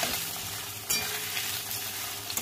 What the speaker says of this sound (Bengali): পনির যে ভাজছি